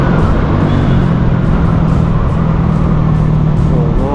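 Moderate road traffic at a street crossing with a stoplight in Mindanao, a steady loud wash of car and engine noise with a low hum throughout and no distinct single pass-by.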